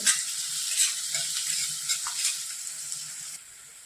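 Chopped onions sautéing in oil for Marathi pithla, a steady soft sizzle with light stirring scrapes, fairly quiet and easing off near the end; no voices.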